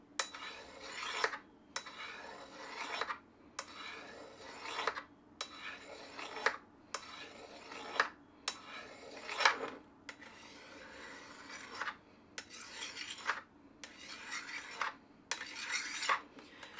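A knife blade is drawn across a sharpening stone in steady repeated strokes, about ten rasping passes with short pauses between them, close and clear with no talking.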